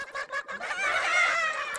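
Game chickens clucking in a short, busy burst of overlapping bird calls, fairly loud and close with no talk.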